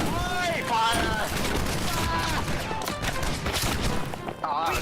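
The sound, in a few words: pistol volley fired in a video game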